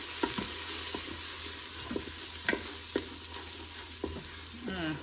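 Garlic cooks in a pan with a constant sizzling hiss, punctuated by a few sharp utensil taps and scrapes against the pan, close up and alone.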